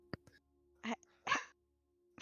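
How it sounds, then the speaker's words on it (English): A few short, quiet barks from dogs sound in a faint, sparse scatter with gaps between them. "Oh, woof, the dogs are here, sorry."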